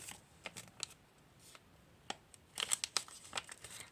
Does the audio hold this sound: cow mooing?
no